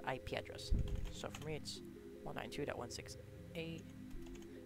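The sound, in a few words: typing a command on a computer keyboard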